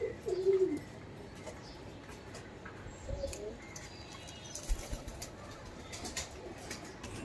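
A pair of pigeons coo near the start, a soft low call against steady background noise, followed by scattered faint flutters and light knocks that may be wing flapping.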